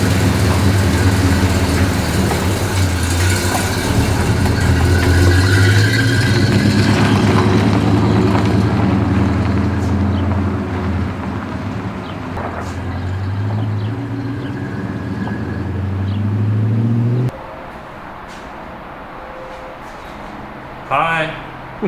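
A car out on a drive after an alternator belt repair, its engine droning loud and close under talk for most of the stretch before the motor noise drops away abruptly, leaving quieter sounds and a few brief noises.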